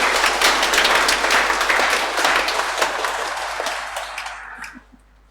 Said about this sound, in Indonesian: Tepuk tangan untuk seluruh panitia